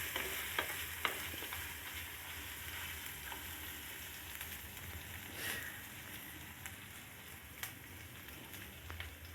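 Green chilies sizzle and crackle in a pan while a utensil stirs them, giving occasional scraping knocks; the frying hiss is steady but fairly quiet, with no talking.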